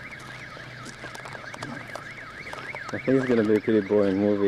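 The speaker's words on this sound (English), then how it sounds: "they're responding rather fast to that alarm" A car alarm wails with a repeating up-and-down warble near a gas station in Mollet, steady and fairly loud; a person talks over it, and a rising stepped tone cuts in near the end.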